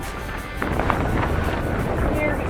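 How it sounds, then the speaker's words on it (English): Strong wind roars steadily through a snowstorm, a dense, continuous rush that buffets the microphone and grows louder after the first half second. "it wouldn't be so bad if it wasn't so windy"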